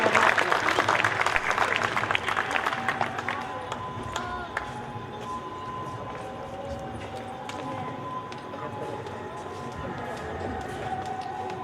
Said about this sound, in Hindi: जोरदार तालियों से भाई सूरत के लिए।